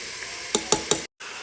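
Vegetables sauté in olive oil in a large soup pot for chicken taco soup, with a soft steady sizzle and three quick clicking utensil scrapes close by before a short cut in the sound.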